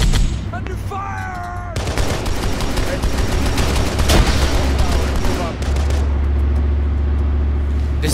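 Sustained gunfire in Arma 3, loud continuous automatic bursts packed tightly over engine rumble from a vehicle, with a brief quieter lead-in and a low drone carrying through to the end.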